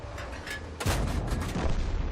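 A single loud, booming cannon shot from a Matilda IV tank in World of Tanks, fired on the Redshire map, followed by a rumbling blast and crackling debris that decays slowly.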